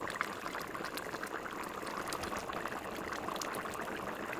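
Radish and pork intestines stew in a covered pot, giving a steady, close bubbling simmer that runs evenly throughout with no voices.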